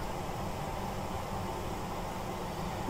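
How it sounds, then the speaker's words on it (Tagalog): A household electric fan runs in a hot room, giving a steady, loud, broadband whoosh that holds even from start to finish, with no voices. "Pasensya na sa ingay ng electric fan."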